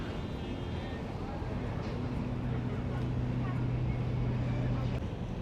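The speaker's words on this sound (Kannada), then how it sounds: "ಬೋಟ್ ಹೆಂಗೆ ಹೋಗ್ತಾ ಇದೆ ಅಂತ. So this is Thames river" A boat engine drones steadily on the River Thames in London, with a low hum and constant broadband wash of wind and water around it.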